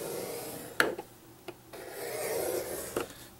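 Paper is scored by hand for a 3D treat box. A few sharp clicks are followed by a soft sustained scraping drag, close and fairly quiet, with no voices.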